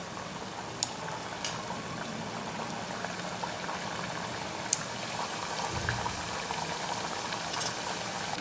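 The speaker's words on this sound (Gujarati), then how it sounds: "આપણે બાકીની બધી જ ફરસી પૂરી તળીને તૈયાર કરવાની છે" Semolina farsi puris deep frying in hot oil, a steady bubbling crackle that runs throughout with a few sharper pops, and no voices.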